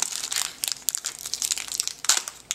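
Plastic packaging around Pokemon merchandise crinkles and crackles close up in quick, irregular bursts while it is being opened, with no voices.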